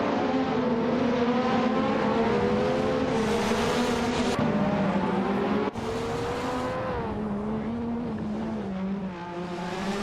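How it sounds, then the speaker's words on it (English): Video game race with race cars including an AAGS J8, engines droning loudly and shifting pitch as they rev, downshift and accelerate through the race, no talk heard. "Schmerzenlive is driving the AAGS J8, a car known for its lightweight design and agility."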